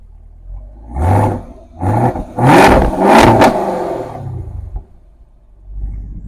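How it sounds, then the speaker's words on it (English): A 2024 Chevrolet Camaro ZL1 V8 blips through several short, loud revs that roar up and fall away, followed by a longer rev and a settling rumble at idle, close and with no talking. "we're gonna rev up the car a little bit, couple little baby revs, nothing crazy"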